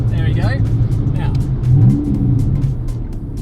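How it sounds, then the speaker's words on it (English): A turbocharged V6 Toyota Camry with its exhaust valve opened gives a deep, close engine rumble that swells briefly, with a person talking over it. "This one opens the exhaust. Have a listen."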